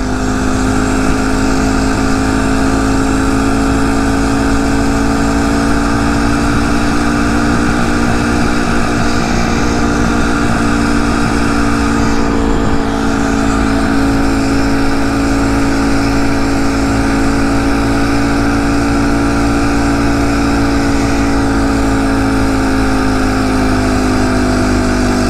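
Phatmoto motorized bicycle engine with a centrifugal clutch running steadily during a ride, a loud, close, continuous droning buzz with wind rush and little change in pitch.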